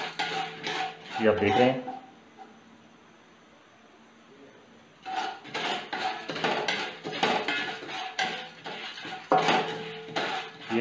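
Popcorn kernels rattling in a pan as it is shaken on the stove, bursts of dense metallic scraping and clinking separated by a quiet pause, with a voice speaking briefly.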